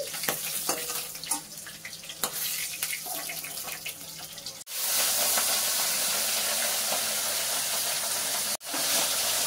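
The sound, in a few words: katla fish frying in oil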